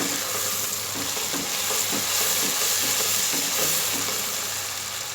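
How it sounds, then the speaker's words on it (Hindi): Ridge gourd sabzi ingredients frying in a pan with crushed fried chillies, a loud continuous sizzle with rhythmic stirring scrapes repeating about every half second, close up and without talk. "अब हम इन तमाम सब चीज़ों को अच्छी तरह भूनेंगे।"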